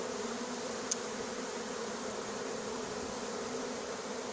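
A honeybee swarm hums steadily during a swarm capture in Igny, a dense, even buzz of many bees that holds at moderate, fairly faint level throughout, with no talking.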